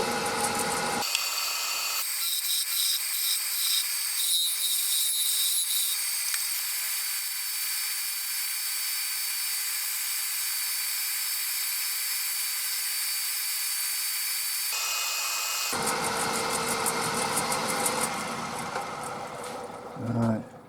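Wood lathe turning a wooden cane, a steady high whirring cut running nearly continuously, loudest at the start and end with a rougher scraping texture, sustained and close.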